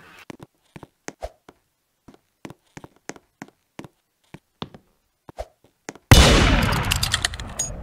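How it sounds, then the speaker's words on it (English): Gunshot in the Roblox game Murder Mystery 2: a run of sharp, isolated cracks spaced irregularly over a silent background, then a sudden loud, broadband burst that sustains and slowly fades at the end. "I got shot."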